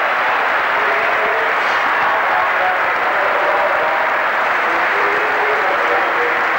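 A stadium crowd at the 1986-87 Full Members Cup Final, Blackburn Rovers v Charlton Athletic, applauds the losing Charlton side as they go up first. The clapping is a loud, dense, unbroken roar that holds steady throughout.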